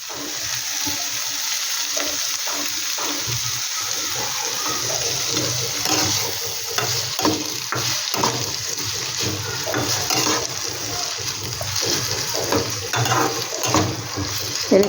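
A suji (semolina) mixture sizzles and fries in a pan for tawa idli, with repeated scraping and stirring strokes over a continuous crackle at moderate, close range.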